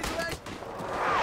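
Gunfire in the WWI shooter game Tannenberg, on a Baltic map, comes as a dense, continuous burst of loud shots with no pauses.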